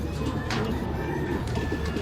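Racing pigeons cooing at their loft, soft low coos that repeat over a steady background murmur.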